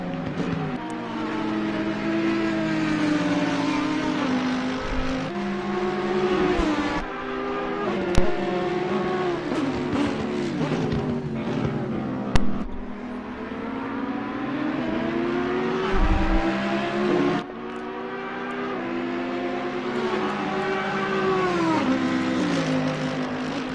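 NXTGEN Cup race cars at Oulton Park produce loud, sustained engine roar that rises and falls through gear changes and passes, with no voices.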